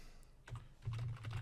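Typing on a computer keyboard: a quick run of close, crisp key clicks, with brief pauses, then a denser burst of keystrokes.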